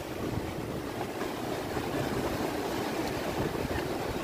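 Ocean surf at Gravatá beach in Navegantes with a rising tide, a steady roaring wash of waves mixed with wind noise and no distinct breaks.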